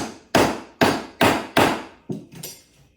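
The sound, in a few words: hammering a piece of zinc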